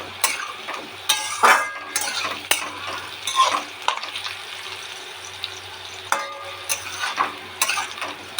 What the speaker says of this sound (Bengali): আলুগুলো এখন ভাজছি